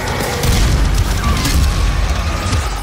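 A heavy rocket-launcher blast in Doom on the Nintendo Switch gives a loud, deep boom with a rumbling low-end tail that fills the short moment, with no voice on top.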